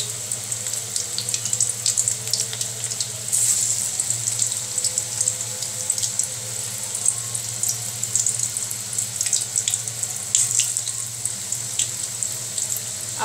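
Malabar spinach (pui shak) pakoras frying in hot oil give a steady, bright, close sizzle with scattered sharp crackles and pops throughout, without any talk.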